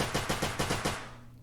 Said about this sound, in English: you will be hearing the gunshots and reload sound effects in this video